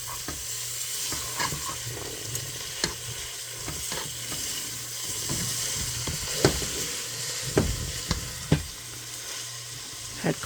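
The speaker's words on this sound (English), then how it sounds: "drain your grease out" Hot grease is drained from a pan of cooked beef for stroganoff macaroni, giving off a steady, close sizzle. Scattered metallic clinks and scrapes from the pan cut through the hiss.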